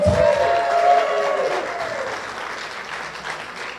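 Church congregation at a Sunday celebration service giving a warm round of applause, a dense crowd of clapping that starts loud and slowly tapers off.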